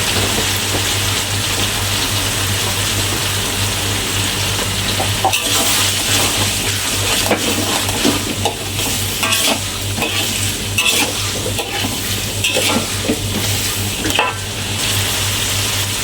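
Hard vegetables including carrot stir-fried in a hot pan, a loud continuous sizzle with stirring scrapes and clatter throughout, no voices.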